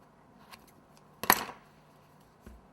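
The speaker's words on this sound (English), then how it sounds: "Take some scissors and just kind of cut some of this off." Scissors snip through fondant during cake decorating: one sharp, close cutting sound in the middle, with a couple of fainter clicks of handling before and after.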